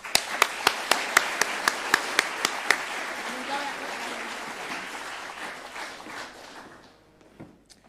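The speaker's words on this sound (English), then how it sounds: "Big round of applause." Applause at a school sports awards ceremony: a crowd claps loudly, opening with regular sharp claps before spreading into steady broad clapping that fades at the end.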